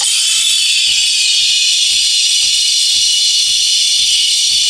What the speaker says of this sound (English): I've just put the steam arm just inside the top of the milk.